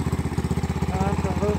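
A Honda CRF150 dirt bike idling on half choke, its engine putting out a rapid, even thumping pulse at close range with a loud, rough, steady throb.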